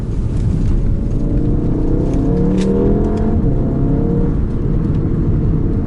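A Subaru WRX turbo accelerates hard, a loud, close engine roar with rising tones under heavy cabin rumble, continuous for several seconds.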